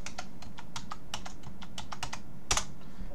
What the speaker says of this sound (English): So we have to type in the same password again